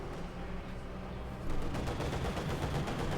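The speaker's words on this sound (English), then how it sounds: "Bit of shooting there." Gunfire in Company of Heroes 2, a World War II real-time strategy battle: a dense crackle of rifle and machine-gun shots that swells louder halfway through and keeps rattling steadily to the end.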